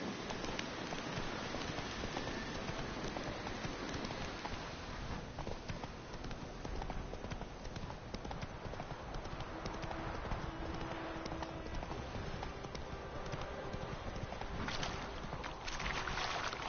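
Roach the horse gallops in Witcher 3, hooves clip-clopping in a steady, continuous rhythm over a dense wash of game ambience, with water and wind-like noise mixed in throughout.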